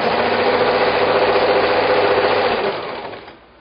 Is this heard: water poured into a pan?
no